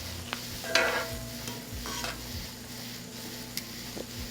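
Peppers and mixed vegetables sauté in a pan, giving a soft, steady sizzle with occasional stirring scrapes and light clinks from a utensil, all fairly quiet and with no talking.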